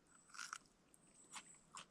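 Someone outdoors bites into crunchy taco shells, making a few faint, close crunches spaced out over a quiet background.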